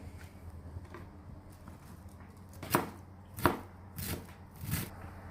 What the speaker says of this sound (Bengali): বাঁধাকপিগুলো আমি কুচি কুচি করে নিব